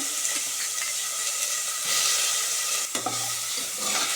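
Steady oil sizzle and crackle from tomatoes and green chillies frying in a pan, with a few stirring scrapes, close and fairly loud, no talking.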